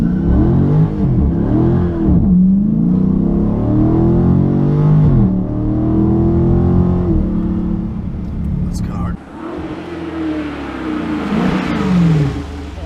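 A 2017 Dodge Charger SRT 392 Daytona with a 6.4L V8 launching with launch control: loud, close engine revs rise and drop through several gear shifts, with a brief lull before a final hard pull.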